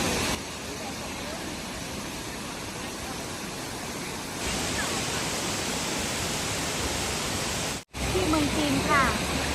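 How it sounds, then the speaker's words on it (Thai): The Nuorilang waterfall sends out a steady, broadband roar of falling water that swells slightly partway through, with a voice faintly heard near the end. "เราอยู่ที่ น้ำตกคุรังนะคะ เป็นน้ำตกแห่งหนึ่งที่อยู่ใกล้โกค่ะ"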